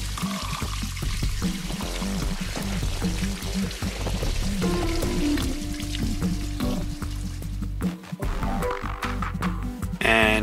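Liquid draining from a fermentation barrel outdoors, a steady pouring and trickling stream that runs continuously at close range with some clunks partway through.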